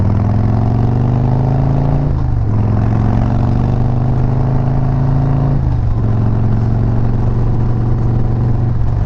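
A motorcycle engine revs hard and steady, climbing in pitch and dropping twice as it shifts gears, loud and close throughout.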